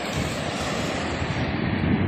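Boat engines at sea near a shoreline where fishermen work, a steady broadband drone that holds at an even level throughout without breaks.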